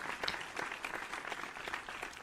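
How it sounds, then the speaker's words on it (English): Applause from a small group during a podcast recording, a modest, fairly quiet burst of clapping lasting a couple of seconds with no talk over it. "Look, big round of applause for Edward Rohr."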